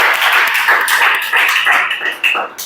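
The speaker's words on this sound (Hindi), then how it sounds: "जोरदार ताली बजाओ" Students in a Chhattisgarh police exam coaching class clap loudly and steadily as a group, dense rapid claps running close and unbroken throughout, with a few sharper claps near the end.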